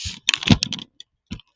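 Keys clatter in quick bursts on a clicky gaming keyboard, close and crisp, with a few separate clicks after the main flurry.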